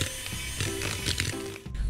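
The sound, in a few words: electric stand mixer running while making cookie dough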